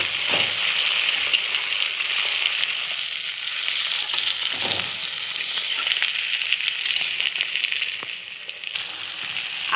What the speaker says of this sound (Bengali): আমি তেলের মধ্যে পেঁয়াজগুলো ছেড়ে দেবো